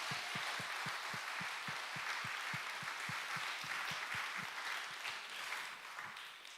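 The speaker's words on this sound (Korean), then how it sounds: "우리 그 하나님께 영광의 박수 드립니다" Sustained congregational applause fills a church hall during a 40th-anniversary worship service, steady and dense throughout, with a regular low thumping beat running beneath the clapping.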